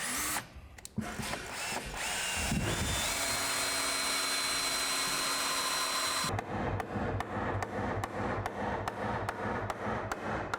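A power drill drives a screw into timber stud work, a sustained loud whirring run for several seconds, then a rapid series of sharp rhythmic clicks as the driver works, close and with no talking.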